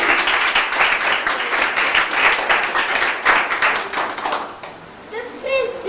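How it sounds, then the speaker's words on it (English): An audience at a school event, Sparkling Mindz Global School, claps in a full round of applause that is loud and sustained before fading, with a voice beginning to speak at the end. "Let's give a round of applause for them"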